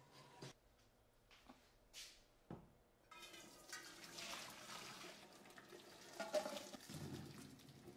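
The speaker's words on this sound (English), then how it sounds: "I'm about to release the cap, and then I'm going to drain the beans." Cooked giant beans drained in a kitchen sink: a few knocks and clatters first, then a steady rush of pouring water and liquid splashing into the sink, close and fairly quiet.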